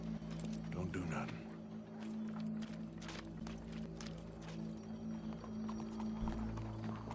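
Horse hooves clip-clop at a steady walking rhythm in the video game Red Dead Redemption 2, moderately close under a low ambient hum, with a voice briefly present.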